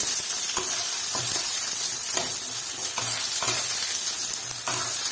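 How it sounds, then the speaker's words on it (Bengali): Chopped onions sizzle in hot oil in a pan for chicken curry, a constant frying crackle broken by regular scraping stirs about once a second, close and alone. "পেঁয়াজটা একটু লাল মতো ভাজা হবে"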